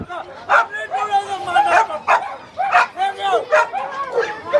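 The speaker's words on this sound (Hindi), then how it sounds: "देखिए उसका खाने के लिए पता नहीं क्या चीज के लिए लड़ाई कर रहा है।" Several dogs scrapping over food at the Sonpur Mela dog market, sharp repeated barks, yelps and whimpering cries up close while someone talks over the noise.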